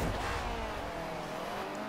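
A Citroen 2CV racing through handbrake corners in a driving video game, its engine droning steadily with faint tire noise, loud and continuous throughout.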